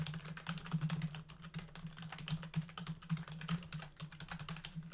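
Fast continuous typing on a computer keyboard, close and fairly quiet, a dense clatter of keystrokes including space bar presses over a steady low hum, and no talking.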